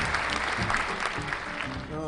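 Round of applause with a crowd murmur mixed in, steady and fairly loud across the whole moment, with a voice showing through underneath.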